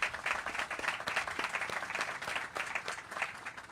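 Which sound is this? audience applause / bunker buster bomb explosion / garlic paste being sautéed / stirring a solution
audience applause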